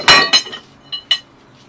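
Metal hand tools, a hammer, chisel and screwdriver, clink against each other while being juggled, four sharp ringing hits in quick irregular succession, close and fairly loud with no voices.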